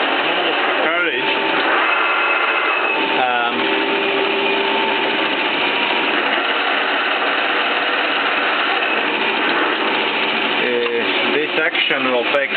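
A Valmet metal lathe's carriage travels under power feed with a steady, loud mechanical whine and whirr, and someone talks over the running machine.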